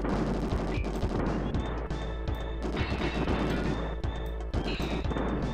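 Gunfire from a light gun shooter video game, a dense and continuous stream of shots and crashing impacts over loud game sound, with no voices over it.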